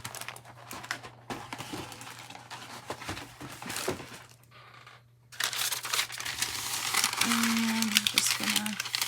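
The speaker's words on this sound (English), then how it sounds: "I'm just going to use a little bit of some parchment paper." Parchment paper from a large roll crinkles and rustles in short bursts as it is handled and folded, close by, with pauses of quiet between handling.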